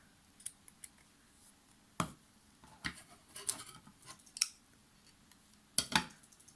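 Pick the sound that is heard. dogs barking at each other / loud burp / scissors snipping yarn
scissors snipping yarn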